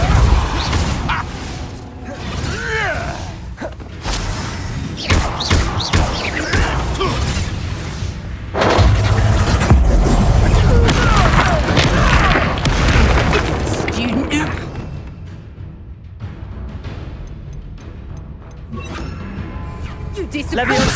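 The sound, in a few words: Repulso spell impact in video game Hogwarts Legacy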